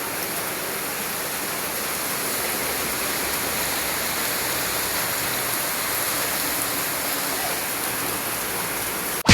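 Heavy rain pours down in a steady, dense wash of noise that never lets up, with flooding reported in the area and no voices heard.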